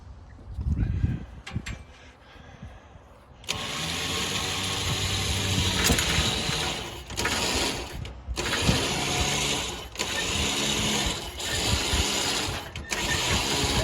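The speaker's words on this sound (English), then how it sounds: "Winch has no problem." A winch hauls a mini tracked loader without a snatch block: a steady, loud mechanical whine and grinding runs continuously from about the four-second mark, with a few brief dips, after quieter clunks at the start.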